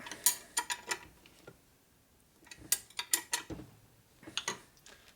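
Bolts on a 1972 Harley-Davidson Sportster Ironhead motor case are loosened and retorqued with a ratchet, giving bursts of quick metallic clicking separated by brief pauses, close up and fairly quiet.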